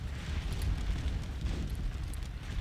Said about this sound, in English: the cannon batteries along the side here, they seem to be making great work on